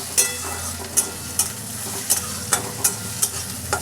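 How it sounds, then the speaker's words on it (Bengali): Onion frying in a pan with chopped green chilli and grated ginger: a steady hot-oil sizzle broken by about seven sharp, regular clinks of a spoon stirring against the metal. "একটু পেঁয়াজটা ভেজে নিই"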